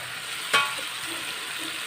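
Chicken fries with spices in a pan, giving a soft continuous sizzle with one brief clink of a stirring spoon early on, fairly quiet and without voices.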